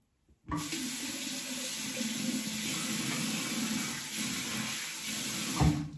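Cold water runs steadily from a tap into a sink while a face is washed, a close, continuous hiss and splash with faint shifts in the flow, starting abruptly after a brief silence and ending with a slight knock near the finish.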